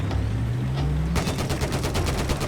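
Rapid automatic gunfire in Battlefield 4 erupts about a second in and keeps going as a dense, steady stream of close, loud shots. A low drone runs underneath before the firing starts.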